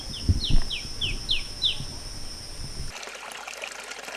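A stream trickling in a rural community, light burbling water with bird chirps repeating in a quick series over the first seconds before a sudden cut to a steadier, duller wash.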